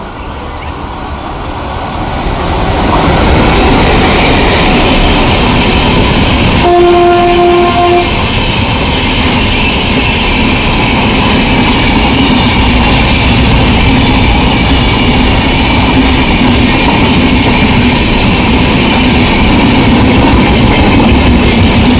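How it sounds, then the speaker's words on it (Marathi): Konkan Kanya Express passenger train arriving at night on the Konkan Railway, a loud, steady rumble of rolling wagons that builds after a quieter start, with a brief two-tone horn blast partway through. "स्पेशल ट्रेन आले"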